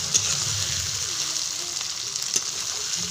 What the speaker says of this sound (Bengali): আদা রসুন বাটাটাকে ভালো করে একদম কষিয়ে নেবো